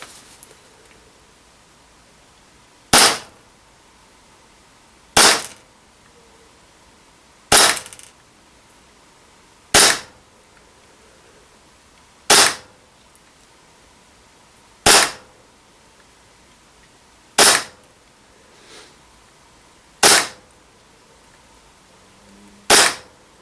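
An airsoft gas blowback pistol, a DP17 loaded with 0.2 gram BBs from a freshly gassed, very cold magazine, fires about nine loud, crisp single shots at a steady pace of roughly one every two to three seconds, with near silence between.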